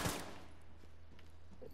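Burst of enemy gunfire in the shooter game Sniper Ghost Warrior 3: one loud sharp shot at the start, then a steady low hum and faint scattered crackles through the rest.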